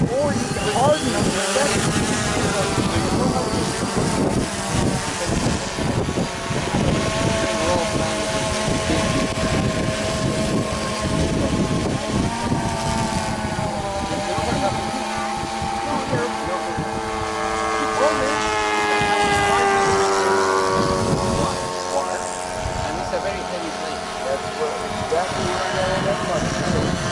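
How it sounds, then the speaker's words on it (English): DJI Phantom Vision 2 Plus quadcopter flying at an outdoor RC flying-club fun-fly, a loud steady buzzing drone with whining tones that rise and fall, heavy wind rumble and people talking throughout. "flight of the day of the DJI Phantom Vision 2 Vision Plus"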